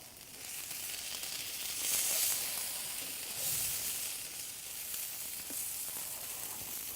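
Blueberry oat pancakes sizzle steadily in a pan, a continuous hiss of frying batter with small crackles, close and even throughout with no talking.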